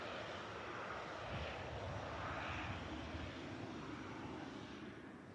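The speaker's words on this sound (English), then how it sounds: "And we got the Jinyao Dreamliner on a taxi out also." A Chinese-based carrier's Dreamliner airliner taxis at Manchester Airport, giving a faint, distant, steady engine roar that holds for several seconds and eases slightly toward the end.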